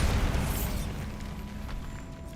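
The Bombarda spell in Hogwarts Legacy goes off as a single heavy explosion, a loud boom at the start that decays into a rumbling tail over a couple of seconds.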